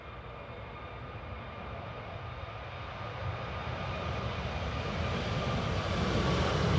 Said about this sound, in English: enjoy the Boston flight by JetBlue